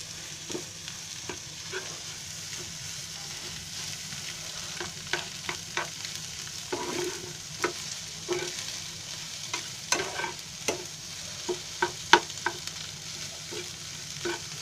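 Egg bhurji fries dry in a pan with a soft, steady sizzle while a spatula stirs and taps the pan in scattered clinks and scrapes. The sound is near, moderate in level, and free of speech.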